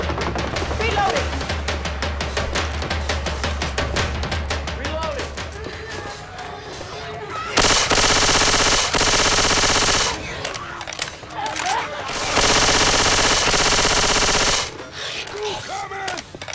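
Loud, sustained automatic gunfire in Left 4 Dead 2: rapid shot bursts in the first half, then two long, dense continuous volleys, dominating the mix with game sounds underneath.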